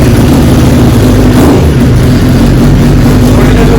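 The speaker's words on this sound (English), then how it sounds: "let's start it, and you look at my foot as I do the shifting, and we're gonna start the bike" Motorcycle engine fitted with a GP shift rear set, running loud and close with a steady low rumble and a slight rise in revs, no talk.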